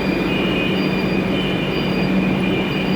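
A Kolkata Metro train runs on the Behala Taratala to Joka line, with a steady loud rumble of wheels on rail, a faint squeal and a high whine throughout, no talk.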